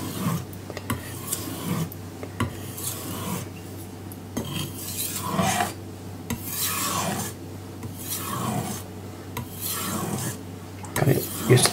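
A carbon steel blade drawn across King Deluxe 1000 and King Gold 8000 whetstones makes steady, close rasping strokes in a repeated back-and-forth rhythm, with no voices.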